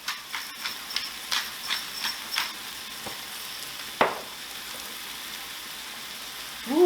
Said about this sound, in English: let's get these shrimp turned over